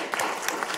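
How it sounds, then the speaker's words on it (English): A short burst of audience applause for a conference planning committee, many hands clapping briskly and fairly loud for under a second, with scattered sharper claps on top. "Round of applause for them."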